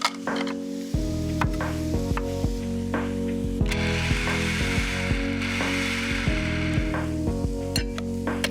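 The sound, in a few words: mushrooms being finely chopped in a chopper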